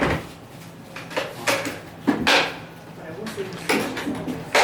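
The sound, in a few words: refitting the lock bar on a pinball machine cabinet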